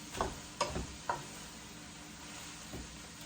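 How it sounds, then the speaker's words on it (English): A spoon knocking and scraping in a cooking pot of kale as it is stirred, three quick close taps then a softer one over a faint sizzle. "I'm just going to give it a little stir before adding the onions, the peppers, and the garlic"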